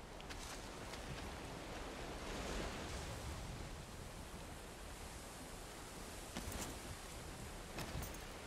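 Steady surf and rolling water waves wash continuously through a video game scene, a broad even roar with a few brief brighter splashes, with no voices.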